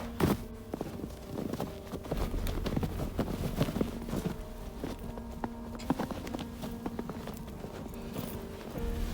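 Horses' hooves clip-clopping as a stage sound effect in a theatre performance of Macbeth, a steady walking rhythm of many hoof strikes continuing throughout, moderately close and with no voices over it.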